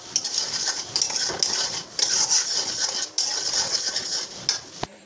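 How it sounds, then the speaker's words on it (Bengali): Elephant apple pickle with chili powder gets stirred in a pan, giving a close, continuous metallic scraping and clinking of a utensil against the pan with brief pauses between strokes. "ভালো করে নেড়ে দেবো।"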